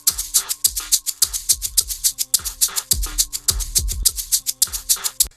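Shaker sample cleaned up by Elysia Fizz Cascade grid filtering, crisp bright rhythmic shakes in a steady pattern over a beat, the hits sharp and airy, playing alone without speech.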